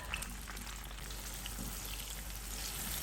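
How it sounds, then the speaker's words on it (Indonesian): Red chili, shallots and tomato fry in about 125 ml of cooking oil for a sambal, giving a steady, close crackling sizzle that runs unbroken and alone. "Goreng cabai merah, bawang merah, dan tomat."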